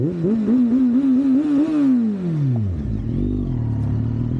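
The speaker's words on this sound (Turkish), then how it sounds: "Burada da hayvanlar falan varsa bir egzoz sesimizi duysunlar be." A Kawasaki Z800 motorcycle engine revs up in a few quick blips on a forest road, then its pitch falls away as the throttle drops and it settles to a low, rumbling idle.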